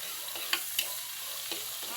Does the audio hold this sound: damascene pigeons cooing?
no